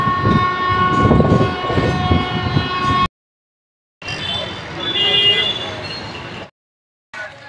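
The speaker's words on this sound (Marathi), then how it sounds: "आता आम्ही म्हणजे सफाळून 10:24 ट्रेन पकडून आलो आहे बोईसरला" A local train rumbles loudly along the line while a long, steady horn blares, broken by abrupt cuts to silence and then more loud rolling train noise with scattered higher tones.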